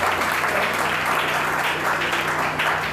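An audience at a talk-show recording applauds steadily, a dense, even patter of many hands clapping throughout with a faint low hum beneath.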